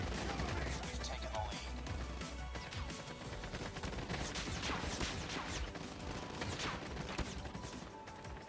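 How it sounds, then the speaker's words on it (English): Gunfire in the mobile shooter COD Mobile, aimed at an enemy's legs: dense, continuous shooting and impacts throughout, loud and busy with game effects layered over it. "Now, I will try to shoot on enemy's leg"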